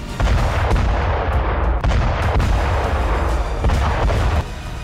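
A Russian rocket strike on a Ukrainian position in Zaporizhzhia: a dense, loud barrage of booming blasts and cracking fire that rolls on almost without pause, with sharp individual impacts cutting through the roar.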